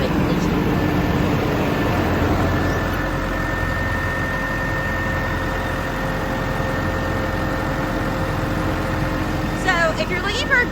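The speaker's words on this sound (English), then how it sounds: "The rear drawn Deere pony motor always fires right up just like it should." Rear-mounted John Deere pony motor on a 2007 Elgin Whirlwind street sweeper truck idles steadily with a low, continuous engine drone that holds at an even level throughout, with brief faint clatter near the end.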